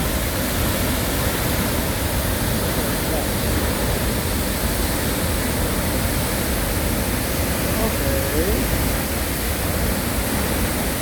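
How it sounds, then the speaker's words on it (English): La Fortuna waterfall in Costa Rica pours as a loud, steady, broadband rush that stays unchanged from start to finish, with no voices clearly heard above it. "your heart with the sound of this waterfall"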